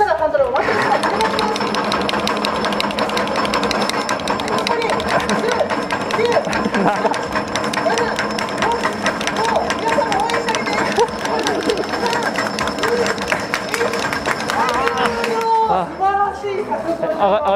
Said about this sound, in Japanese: そしたらハンドルを回してください。